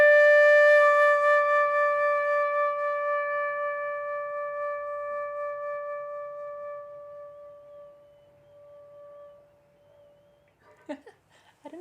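A single sustained flute note starts strong and slowly tapers away to near silence over about ten seconds, ending with a brief breathy rustle.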